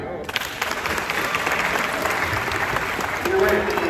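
A crowd claps for a young girl at a youth motivational tour event; loud, sustained, dense applause starting abruptly, with voices faintly mixed in.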